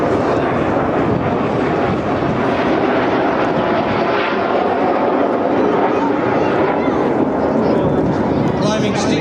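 Red Arrows display jets at the Clacton-on-Sea air show in Essex, a loud continuous roar of jet engines passing overhead, with an announcer speaking over the noise throughout.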